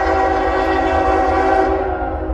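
A freight train hauling rocks rolls past on the main line, a loud close sustained rumble with a steady horn-like tone held across the whole short stretch.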